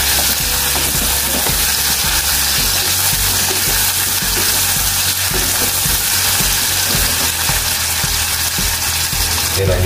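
Spice paste with galangal and kaffir lime leaves sizzles loudly in a pan, a dense constant frying hiss with stirring scrapes throughout, close and without pauses.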